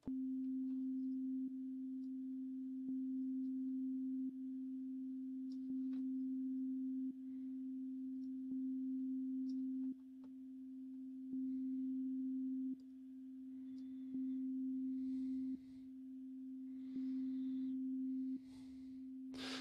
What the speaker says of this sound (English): with a higher release time, we can get these kind of pumping sounds where the sound slowly comes in